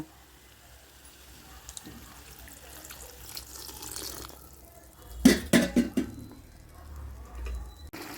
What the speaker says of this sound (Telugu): ఇప్పుడు మనం దీంట్లో కొంచెం వాటర్ యాడ్ చేసుకుందాం